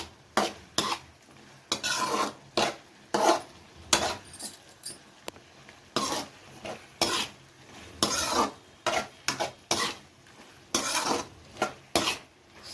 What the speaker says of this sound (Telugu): కారం వేసి కలబెట్టుకోవాలి